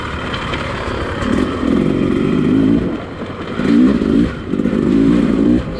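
A 2020 Beta 300rr two-stroke dirt bike ridden on gnarly single-track trails, its crisp engine rising and falling in repeated revving bursts with blipping throttle, close and loud over rough ground clatter.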